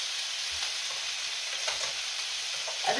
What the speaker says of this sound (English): because this is sizzling